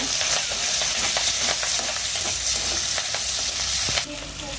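Vegetable bhaji with onion and garlic frying and being stirred in a pan: steady close sizzle with repeated scraping strokes, alone, briefly dropping in level near the end.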